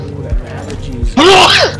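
A single loud, close sneeze from one person bursts out near the end, with a gamer chatting during Red Dead Online and faint talk and breaths just before it.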